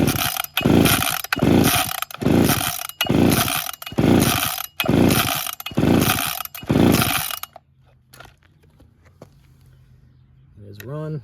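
A free curbside chainsaw with no purge bulb is pull-started repeatedly. About seven sharp, rhythmic rope pulls come roughly once a second, with the engine turning over on compression, before the sound falls to near silence.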